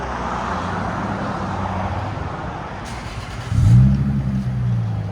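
A 2001 Lexus IS 300 with the 3.0L 2JZ-GE inline-six and a Greddy cat-back exhaust idles with a deep, steady rumble close by, then rises briefly in a short rev near the end.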